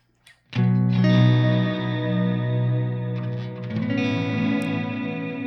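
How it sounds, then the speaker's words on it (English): Electric guitar played through a Strymon Volante delay pedal: a sustained chord swells into long, layered echoes that spread and blur like ambient reverb, then a second chord blooms over the tail. "if you want really to your delays to spread out like a reverb"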